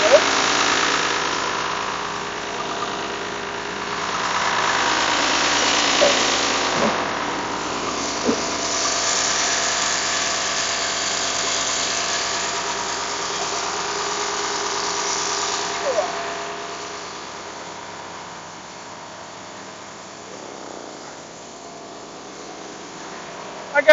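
A John Deere 6600 combine engine idling, a steady low mechanical hum with faint rattly vibration that runs evenly and eases off toward the end; some occasional human sounds are in the background.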